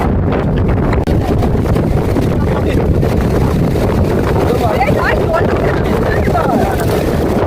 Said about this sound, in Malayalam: കടലിൻ്റെ ഒരു അന്തരീക്ഷവും കാറ്റും ഒക്കെ അടിച്ചുള്ള അന്തരീക്ഷം